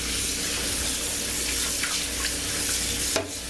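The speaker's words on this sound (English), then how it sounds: "Shake them really well and rinse them off." Running tap water splashing over raw oxtails in a sink, a loud continuous hissing rush with small splashes and a brief clunk near the end, no voices.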